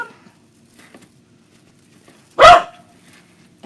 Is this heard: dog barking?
yes